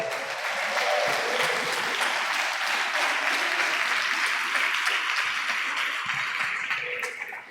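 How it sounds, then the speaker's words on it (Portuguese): A church congregation applauds during a Sunday sermon, a dense, steady wash of clapping that fills the room at full strength and fades slightly at the very end. "Aplauda ao Senhor."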